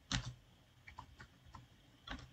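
Code being typed on a computer keyboard during a Python programming lesson: a quick burst of loud key clicks, then sparse, irregular single keystrokes, and another loud cluster at the end, with no talking.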